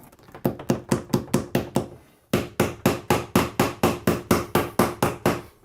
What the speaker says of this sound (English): I'm going to staple it up here and then leave another curl